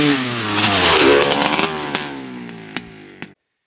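A 1985 Honda CR500 two-stroke dirt bike engine with a badly worn muffler revs loud and close, a harsh raspy blare that rises and holds, then cuts off with a few sharp backfire pops at the end.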